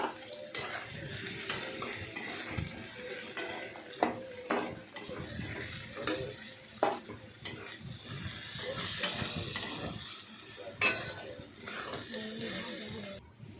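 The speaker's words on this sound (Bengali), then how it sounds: "তারপর ভালোভাবে নাড়াচাড়া করতে হবে।" Ginger and radhuni spice paste stirred and fried in a pan for a water spinach stem shukto, with continuous sizzling and repeated scraping and clinking of a utensil against the pan, close and steady.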